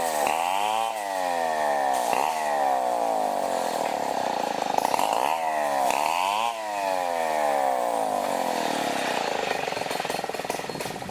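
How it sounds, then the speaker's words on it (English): A chainsaw cuts through lumber in the Philippines, its loud engine whining steadily and dipping in pitch each time the chain bites into the wood, over an unbroken roar. "So he just cut up several different pieces of the same size lumber with a chainsaw."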